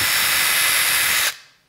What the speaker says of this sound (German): man kann damit auch kleine Schrauben schrauben.